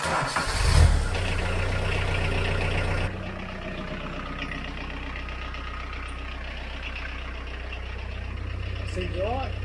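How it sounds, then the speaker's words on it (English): A tractor's starter cranks over briefly and the engine catches, then settles into a steady low idle that continues to the end. "I have to sit on the seat to get the starter to crank over"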